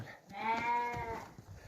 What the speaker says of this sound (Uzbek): Mana qo'ylarni qarang.